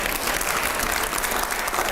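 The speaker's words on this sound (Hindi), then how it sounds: "जोरदार तालियां" A studio audience gives steady, dense applause during an interview, with sustained clapping filling the whole moment at moderate loudness.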